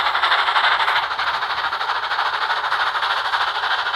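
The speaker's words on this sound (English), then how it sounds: "Percy was shunting the two express coaches back down the line." In a video game, a steam engine shunts two express coaches down the line, giving a continuous, loud rolling rumble and hiss with a faint rhythmic pulse and no speech.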